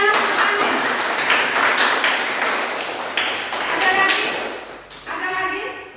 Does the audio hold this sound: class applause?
yes